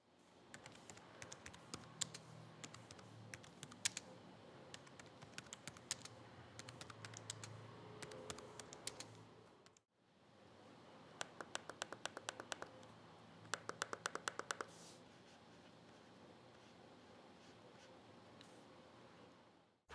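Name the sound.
One XPlayer 2 keyboard and touchpad feedback clicks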